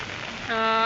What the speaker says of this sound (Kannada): ಮಳೆ ಅಬ್ಬರ ಹೇಗಿದೆ ಅನ್ನೋದನ್ನ ನೀವೇ ನೋಡಿ